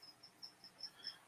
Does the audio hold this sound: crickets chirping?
yes